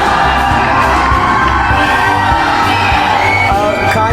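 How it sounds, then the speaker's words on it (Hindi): A large student audience on the LPU campus cheers and shouts for Khan Sir, a loud, dense crowd roar with whoops and yells that holds steady for the whole stretch. "चलिए खान सर के लिए एक बार जोरदार ताली बजा दीजिए।"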